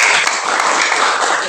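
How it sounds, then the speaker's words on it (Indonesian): A class applauds a student group in a classroom, a dense, steady burst of hand clapping, loud and close, lasting the whole moment without a break. "Tepuk tangan buat kelompok 1."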